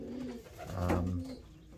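A racing pigeon gives a single soft, low coo, heard close by in quiet surroundings.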